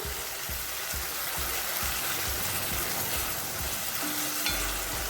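Small pieces of saltfish sizzle and fry in a pan, with a spoon stirring them in a steady rhythm of scraping strokes over the constant close, even crackle.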